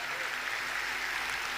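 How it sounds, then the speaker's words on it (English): Audience applause at the closing ceremony of the WCIT 2019 event, a brief steady wash of clapping mixed with crowd voices. "Round of applause for everybody"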